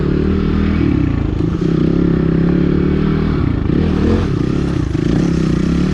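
An XPulse 230s motorcycle climbing a rocky technical trail near Delhi in low gear, its engine chugging loud and close with brief revs and clattering from the terrain, steady throughout.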